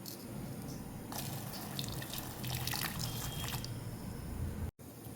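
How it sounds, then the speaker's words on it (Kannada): Hot water poured over about eight dried chillies to soak for a bangude (mackerel) masala fry, a soft splashing pour lasting a couple of seconds, then trickling and drips, close and quiet. "ಬಿಸಿನೀರು ಹಾಕಿ ನೆನೆ ಇಡ್ತೇನೆ"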